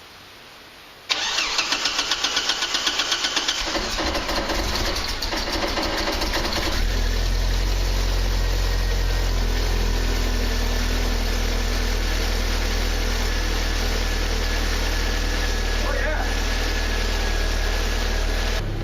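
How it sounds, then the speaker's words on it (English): Mazda 626 engine with a manual clutch cranking with a rapid starter chatter, catching, then settling into a steady, slightly high idle that hums on evenly for the rest of the clip; close and fairly loud, no talk. "Idle actually sounds like it's dropping just a hair as the engine's warming up."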